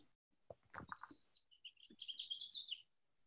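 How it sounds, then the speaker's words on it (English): Small birds chirp and trill outdoors in spring, a bright run of quick warbling notes after some low soft thumps, faint and somewhat distant. "I'm so happy to hear the birds in the background of your place, Steve."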